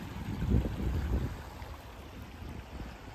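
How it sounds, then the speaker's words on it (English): A small waterfall on a little river at a beach in Mission Bay, Auckland, a soft continuous rushing with low wind rumble, moderately distant and fairly quiet, with no talking. "Yeah, it's a little a little waterfall."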